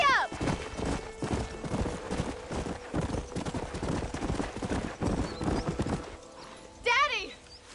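A horse gallops in Red Dead Redemption with steady, rapid hoofbeats close by under continuous talk, ending with a loud whinny near the end.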